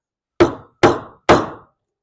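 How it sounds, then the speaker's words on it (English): Three evenly spaced, loud hammer strikes land on parts of a custom air ride setup for an MK2 Golf GTI VR6, each a sharp close impact with a short ringing decay, and no voices. "Hammer time. Big enough hammer."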